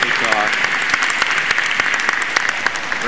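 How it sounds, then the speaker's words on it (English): Steady applause from a lecture audience, held at a lunch break after a talk by Dr. Stanford. Dense, even clapping runs the whole time at moderate loudness, with a brief voice near the start. "Round of applause once again for Dr. Stanford"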